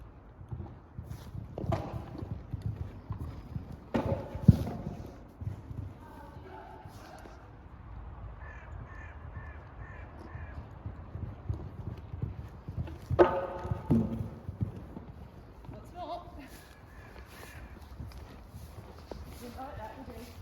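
Horse cantering in an arena, a rhythmic muffled clip-clop of hoofbeats rising and fading as it passes, with people talking throughout.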